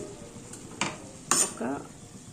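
A spoon stirs carrot and capsicum curry seasoned with turmeric and chili powder in a pan, giving a few sharp metallic scrapes and clinks over a low sizzle, close by with no talking.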